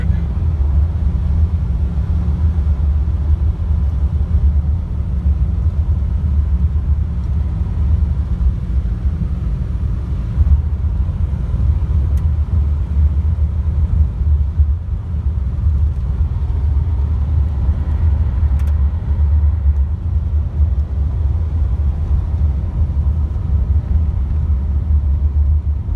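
A 1978 Dodge Diplomat Boattail cruising at about 35 mph on a bumpy country road, heard from inside as a steady, loud low engine and road rumble that continues throughout with no break.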